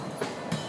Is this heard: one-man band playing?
yes